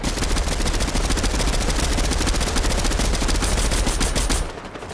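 Rapid, sustained automatic gunfire from a video game battle royale match, dense and loud for several seconds before cutting off abruptly near the end.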